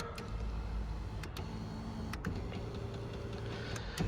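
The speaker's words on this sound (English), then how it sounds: "Power seat, we just installed new vertical power seat motors" A new vertical power seat motor in a Dodge Ram 2500 Cummins 5.9 High Output truck hums steadily as it moves the seat, faint and continuous, with a few light clicks along the way.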